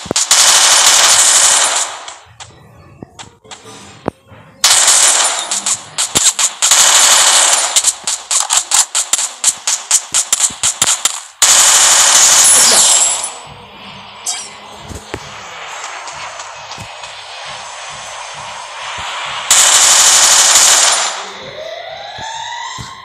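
Rapid automatic gunfire rattles in bursts during a Free Fire match, loud clustered volleys separated by quieter gaps, with footsteps, in-game effects and occasional speech in between.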